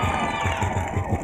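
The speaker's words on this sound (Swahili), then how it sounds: "Pigia Yesu makofi." A church congregation cheers and praises Jesus, loud and close, with a steady rhythmic pulse that may be clapping. The burst is short.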